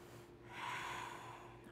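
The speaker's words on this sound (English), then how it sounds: "2 more breaths." A single slow breath during yoga practice, a soft airy inhale swelling and easing off over about a second, faint and close with no speech.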